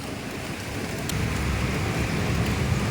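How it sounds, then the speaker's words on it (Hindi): Heavy monsoon rain falls outside in Mumbai, a loud, dense and steady roar that swells slightly partway through, with no voices. "इधर तो बारिश आ रही है"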